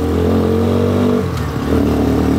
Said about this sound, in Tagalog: mararamdaman mo yung vibration, doon lumalakas yung makina